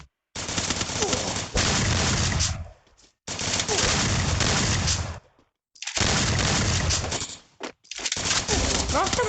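Rapid automatic gunfire in Counter-Strike comes in three long, dense bursts broken by short silences, loud and close, with no voices over it.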